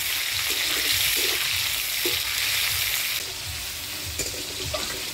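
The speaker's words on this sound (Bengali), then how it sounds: "এবার দিয়ে দিচ্ছি কাটে রাখা টমেটো।" Chopped tomatoes go into hot oil spiced with whole garam masala, dried red chilli and bay leaves, a loud steady sizzle and crackle with stirring scrapes, easing slightly toward the end.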